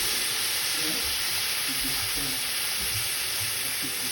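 Rice frying for mole con arroz sizzles loudly and continuously as hot water is poured in slowly, a dense steady hiss with occasional bubbling pops and no talking.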